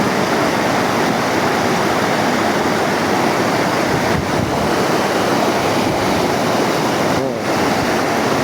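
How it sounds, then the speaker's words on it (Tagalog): Flowing river current and waves wash against the shore in a steady, loud, unbroken roar, with no pauses or talking. "ang daloy ng agos ng tubig."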